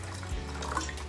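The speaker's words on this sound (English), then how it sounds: "I'm gonna add some more water." Water poured into freshly made melon mango juice gives a close, soft liquid trickle and splash with a steady low hum underneath, brief and without talk.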